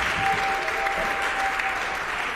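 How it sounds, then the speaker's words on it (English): A congregation at a Sunday worship service applauds the performers, a dense, loud and even wash of clapping that fills the short moment without pause. "Come on, give them a big hand"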